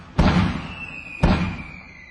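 Fireworks set off at dawn at a royal palace, two sharp booming bursts about a second apart, each followed by a short decaying rumble and a faint thin whistle between them.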